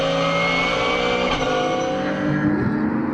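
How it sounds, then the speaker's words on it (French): Race cars, among them a Ferrari 488 Challenge, circulating at the Magny-Cours circuit: a loud, sustained engine roar that rises and shifts in pitch as cars pass, heard close and continuous. "À bord de sa Ferrari F488 Challenge, Berthet remonte fort et se défait de Damien Roche à la chicane du Nürburgring pour le gain de la 5e position."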